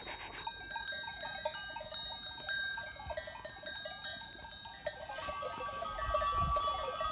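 A flock of sheep grazing on a high mountain pasture, with bells clanking steadily and faint bleats at a moderate distance over a continuous outdoor hush.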